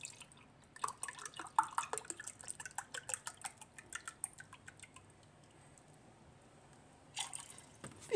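Water and then milk poured into a measuring cup for börek, heard as a quiet, close run of drips and trickles that fades, then a short splash near the end.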